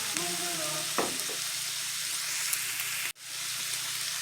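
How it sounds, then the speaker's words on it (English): Minced meat stew with tomatoes being stirred in a hot pan, a steady close sizzle with spoon scrapes and a brief clatter near the start, continuing without pause. "Now we're going to mix everything until it's well combined."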